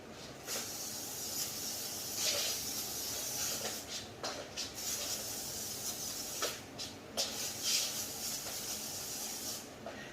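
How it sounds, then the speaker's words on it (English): Several short hissing bursts from a disinfectant spray bottle, spaced irregularly across the stretch, close by against a quiet room background. "I spray disinfectant on everything."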